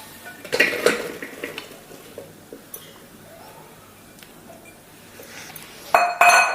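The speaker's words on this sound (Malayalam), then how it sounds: "ഇതിനി നമുക്കൊരു കുക്കറിലേക്ക് ഇടാം." Chopped green jackfruit pieces, with seeds and skin removed, are dropped into a metal pressure cooker, giving a few sharp clinks and clatters near the start and again at the end, with quieter handling in between.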